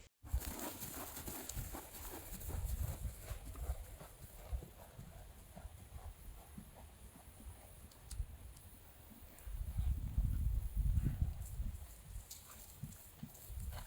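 Hoofbeats of Baly, a horse galloping at liberty, thud in rhythmic bursts that rise and fade, fairly faint and distant against outdoor background noise.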